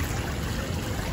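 Water fountain splashing at KLCC during the holidays, a close, steady gush and patter of falling water that fills the whole short moment with no voices.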